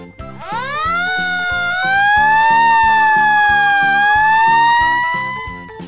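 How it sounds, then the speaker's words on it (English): Wailing fire truck siren, loud and close, rising then holding a steady howl over a ticking, tinkling musical beat, with no talk. "Truk pemadam kebakaran."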